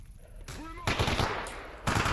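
Bursts of gunfire in S.T.A.L.K.E.R. Anomaly, loud rapid shots in two or three clustered volleys over a couple of seconds, close and harsh, with a faint voice-like tone briefly beneath.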